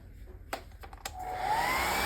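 A few faint clicks, then a hair dryer switches on and blows with a steady, rising whoosh that fills the rest of the moment, drying wet paint on an art journal page.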